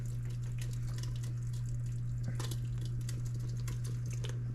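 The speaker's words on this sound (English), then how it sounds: "So I'm going to just pour this over into the container, the blended ginger." Blended ginger for homemade ginger beer is poured into a container, a steady liquid pour with soft splashing heard close up over a constant low electrical hum.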